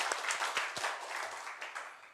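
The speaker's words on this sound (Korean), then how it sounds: "우리 하나님께 영광의 박수 올려드리겠습니다" Congregation in a Korean Sunday church service giving a round of applause, scattered sharp claps at the start blending into a continuous, moderately loud ripple of hands that gradually thins out.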